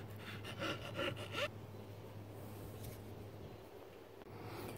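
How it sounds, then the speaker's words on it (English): A hand file scrapes along the edges of a wooden piece for a sconce in a garage, giving a quick run of rhythmic rasping strokes for about a second and a half, then quieter background hiss. "now that I filed the edges, they're slightly rounded"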